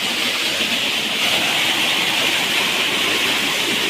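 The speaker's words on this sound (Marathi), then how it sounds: "धबधबा आहे छोटासा" A small waterfall on the Konkan coast during the first monsoon rains, a steady broadband rush of falling water, loud and close, continuous with no breaks and no voices.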